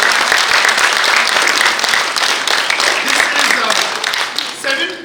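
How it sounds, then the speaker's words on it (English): A full row of seated audience members at a corporate employer brand awards ceremony in the Philippines applauds loudly and steadily, a dense wash of clapping that thins slightly near the end. "This entire row, I want you to applaud."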